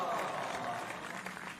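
Applause from an audience in an animated Christian film, a dense, steady wash of clapping that holds at an even level for the whole stretch with no voices standing out.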